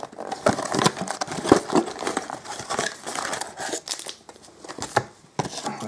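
Hockey card blaster box packaging, a 2018-19 Upper Deck Parkhurst set, being opened: close crinkling and crumpling of wrappers with scattered tearing and rustling bursts, loud and irregular throughout, with no talk.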